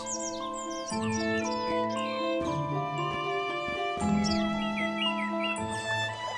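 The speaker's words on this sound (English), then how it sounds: "You start to hear birds and see flowers." Several birds chirp and trill together in a bright, busy chorus, with overlapping calls and a few lower tonal notes underneath, no talking.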